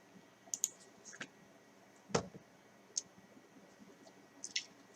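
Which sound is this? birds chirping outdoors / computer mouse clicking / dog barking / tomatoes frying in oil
computer mouse clicking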